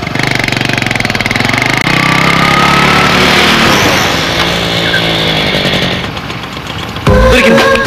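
A motorbike engine running steadily and loudly close by in a roadside scene, a continuous buzzing drone that shifts near the end.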